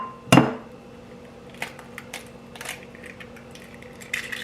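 Egg cracked into a mini waffle maker for a strawberry shortcake mini waffle, a sharp crack followed by scattered light clinks and taps of shell and utensils, close and fairly quiet, with no talking.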